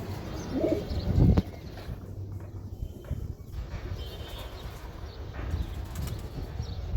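Older Giribaz high-flyer pigeons coo softly nearby while wings flap in a brief burst early on, over a quiet room tone.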